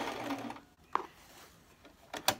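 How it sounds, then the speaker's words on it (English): Sewing machine top stitching the seam of a box pillow, with a brief mechanical whir, a sharp click near the middle and a clatter near the end, fairly faint and up close. "I'm going to put in a little bit of top stitching here"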